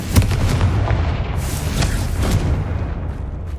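A Confringo blast spell in the video game Hogwarts Legacy, booming and rumbling with heavy low crackle and quick pops, loud and continuous before tailing off slightly.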